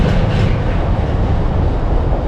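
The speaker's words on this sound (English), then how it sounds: "Massive freight train," A very long freight train rolls steadily through a railway station on the line to Whitby, a loud continuous rumble of wagons and wheels close by, with no voices.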